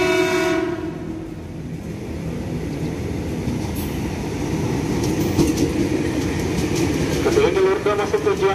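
A commuter train bound for Bogor rumbles into platform 2 at Cikini station, Jakarta, with a steady low roar and rising mechanical noise, a brief horn-like tone early on, and faint Indonesian public-address talk in the background.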